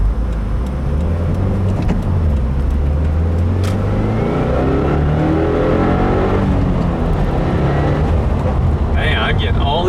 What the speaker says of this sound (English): Every time I get to fourth, it's getting backfire after backfire.